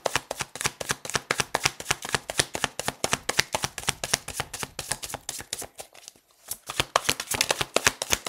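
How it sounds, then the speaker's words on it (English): A rapid, steady riffle of tarot cards being shuffled, crisp repeated flicks close to the microphone with a brief pause near the end, no voices. "let me shuffle."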